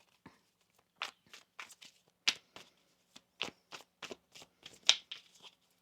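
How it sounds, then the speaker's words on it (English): Tarot cards are shuffled close by on a table in a series of soft, crisp riffling slaps and flicks, irregular short bursts spaced across a few seconds with near silence between them. "One more shuffle."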